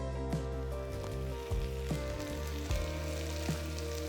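Chopped tomatoes and onions fry in a pan for tiffin-centre tomato chutney, giving a steady sizzle throughout with a few soft stirring knocks, close and even, with no talking.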